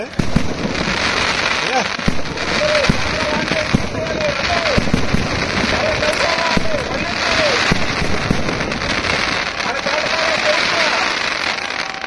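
Firecrackers burst in dense, rapid crackling volleys at a village festival in Thotapalem, Srikakulam, a loud continuous barrage lasting throughout with scattered sharper pops and faint crowd noise underneath.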